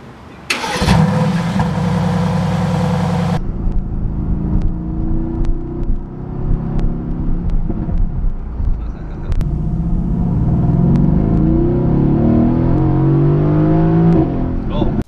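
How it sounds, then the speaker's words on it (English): A 2016 Mercedes-AMG GT S twin-turbo V8 cranks and fires with a loud bark, settles into a burbling idle, then rises in a long rev, heard close up with voices talking over parts of it. "it sounds amazing for a V8 with two turbos"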